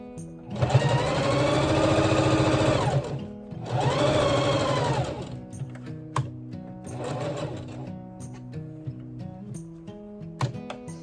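A sewing machine stitches face mask fabric in two long, loud, even runs of rapid mechanical whirring, followed by a shorter, fainter burst, with brief pauses and soft ticks between them.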